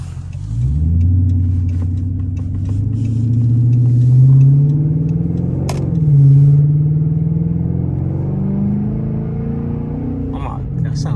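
A Dodge Charger R/T with a mid muffler delete revs repeatedly, its deep, loud exhaust rumble rising and falling across several throttle blips, with a short sharp crack near the middle.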